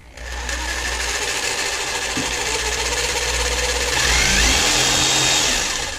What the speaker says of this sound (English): This is a variable speed jigsaw.